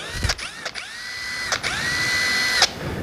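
Keyang 18-volt cordless impact driver runs in short whirring bursts with rising and falling motor pitch, several brief trigger pulls close by with quiet gaps between.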